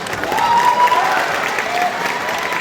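Dense, steady audience applause from a crowd at a public political speech, many hands clapping continuously and fairly loud, with a voice faintly underneath.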